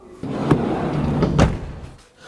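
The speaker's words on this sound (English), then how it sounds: "Yes, you've got twin sliding doors" A sliding side door on a campervan rolls and thuds shut, with two distinct knocks about a second apart, fairly close, with no voices.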